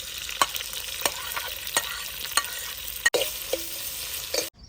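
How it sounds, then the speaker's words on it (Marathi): Onions frying in hot oil for chole, a steady sizzle broken by repeated sharp spoon scrapes and taps against the pan, close and loud with no talking. "आपलं तेल तापलंय आपण आता कांदा भाजून घेणार आहोत"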